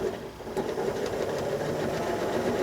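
A sewing machine quilting through a thickly padded trapunto fabric area runs in a steady, fast mechanical whir with the presser foot slightly lifted. It is close and continuous with no talking.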